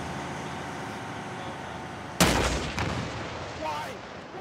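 A rocket launcher fires in Arma 3: a sudden loud, close blast with a sharp crack, followed by a rolling rumble and a second burst, amid combat ambience and faint voices.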